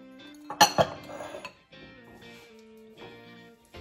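Spoon scraping and clinking against a pan while coconut flakes and almond powder are mixed, with a couple of sharper knocks early, then softer steady stirring.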